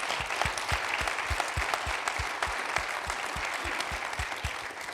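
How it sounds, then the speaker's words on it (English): Church congregation applauding its volunteers at a year-end business meeting, a full room clapping steadily with a rhythmic pulse of synchronized claps running through the continuous wash. "So can we just give them a round of applause"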